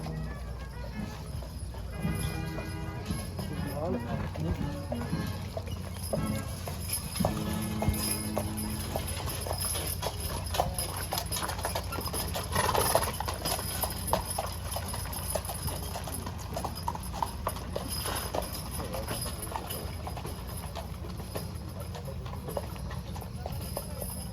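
Steady clip-clop of horses' hooves on pavement at a historic village continues throughout, with a constant background hum and occasional faint clatter.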